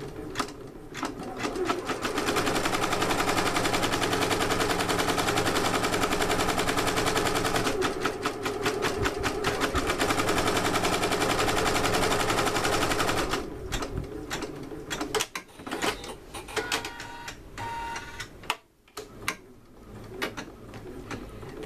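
A longarm quilting machine set at 800 stitches per minute runs outline stitching as a rapid, steady mechanical chatter that stops and starts in bursts toward the end.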